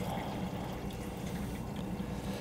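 Water is poured into the tank of a Chauvet DJ Cumulus or Nimbus low-lying cloud machine, a steady, continuous splashing pour at moderate level with no talking.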